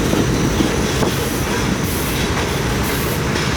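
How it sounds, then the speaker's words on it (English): New York City subway train arriving at the Transit Museum's parade of trains, a loud, close, steady rumble of wheels on rails with faint high squealing and clatter, no voices. "There's the train of many metals arriving."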